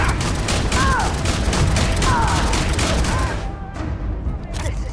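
Rapid gunfire rattles through a firefight in the Starfield game, with a heavy blast breaking out among the shots and brief voice-like calls mixed in before the din thins out near the end.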